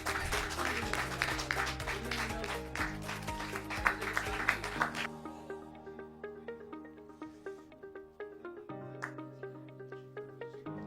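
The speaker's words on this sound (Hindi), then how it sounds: "जा जोरदार तालियों के साथ।" Audience applause at a Hindi poetry open mic bursts out over steady background music for about five seconds, then drops away and leaves the music playing on its own.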